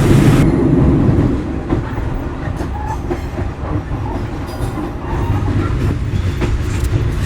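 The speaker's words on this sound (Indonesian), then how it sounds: "Saat ini kereta api Sri Tanjung masuk stasiun Surabaya Gubeng" The Sri Tanjung passenger train rolls into Surabaya Gubeng station, Indonesia, with a loud, steady rumble and rhythmic clacking of wheels, a few faint squeals over the din.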